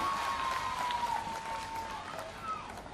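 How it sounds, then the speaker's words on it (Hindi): A crowd at a Women's Day stage event applauds the women on stage, dense clapping mixed with some cheering under a sustained tone, fairly loud and steady for a few seconds. "जोरदार तालियां हो जाए इनके लिए।"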